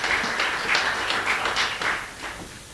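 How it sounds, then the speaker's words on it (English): An audience at a youth appreciation awards ceremony claps for sports award recipients, a short burst of many hands that fades slightly toward the end. "I invite you to give a round of applause to all those who were recipients of those awards today"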